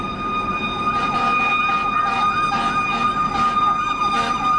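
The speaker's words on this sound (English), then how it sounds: "Oh, it's a fire truck." A fire truck siren wails past outdoors, its repeating rising and falling tones steady and fairly loud, with a low rumble of traffic beneath and no talking.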